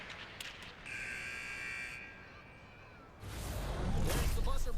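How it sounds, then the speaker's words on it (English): A long flat electronic buzzer ends a period in an EA Sports ice hockey video game, a loud sustained tone of about a second followed by rising arena crowd noise. "There's the buzzer bringing the second period to an end"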